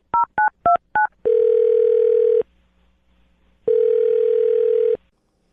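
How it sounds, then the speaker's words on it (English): Telephone keypad tones on a call: four quick two-note beeps, then two long steady ringback tones separated by a silence, close and clear, with no talk. "I'm dialing his phone number right now."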